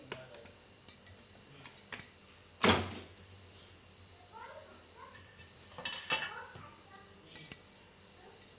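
A flat piece of dough is set down on a metal griddle with a soft slap, amid clinks of pans and utensils in a kitchen.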